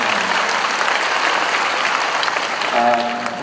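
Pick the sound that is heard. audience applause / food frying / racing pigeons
audience applause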